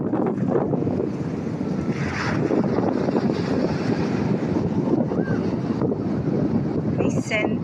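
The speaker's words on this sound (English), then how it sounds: "Listen to the waves and feel the healing effect of nature." Ocean waves at a beach wash in as a continuous loud rush mixed with strong wind buffeting the microphone, with no clear breaks between surges.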